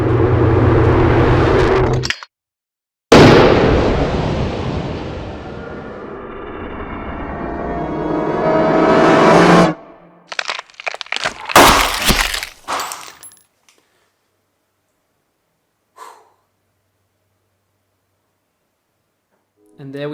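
Slow-motion bullet effects built in sound design: a long, loud whooshing gunshot blast with stretched noise, a second sustained rumble, then a burst of sharp glass-like breaking and cracking debris, fading to near silence with small tinkles.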